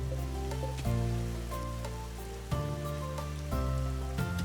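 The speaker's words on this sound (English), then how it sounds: "Out in the rain." Rain falls in the colony-building game Rimworld, a steady soft hiss running beneath sustained game music with no one talking.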